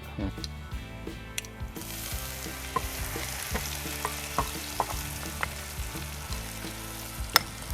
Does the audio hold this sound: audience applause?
no